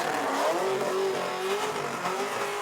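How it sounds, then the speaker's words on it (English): A car engine revs steadily at high pitch during a burnout competition, a sustained droning tone with tyres hissing underneath, loud and close with no talking. "Got some really steady revs, good throttle control going here, Mick."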